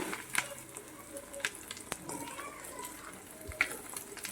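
Dried prawns fry in oil for a prawn pickle, a quiet steady sizzle broken by a few sharp pops and spatters, close and faint.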